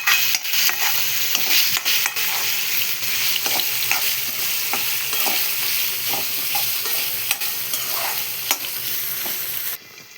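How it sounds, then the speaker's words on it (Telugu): A spoon stirs turmeric through a frying curry in a pan, with steady sizzling under repeated sharp scrapes and clinks against the metal, loud and close throughout. "పసుపు వేసుకున్నాక అన్ని బాగా మిక్స్ అయ్యేలాగా కలుపుతున్నాము"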